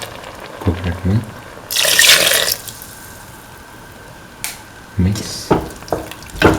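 Coconut milk poured into a hot pan: a brief, splashy liquid rush of about a second, followed by quieter sizzling and a few sharp clinks of utensils against the pan.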